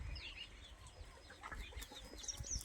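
Chickens on a farm with desi and Chinese hens and small chicks, faint soft clucking and peeping calls scattered over low background rumble.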